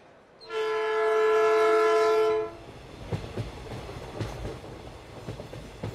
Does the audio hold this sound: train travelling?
yes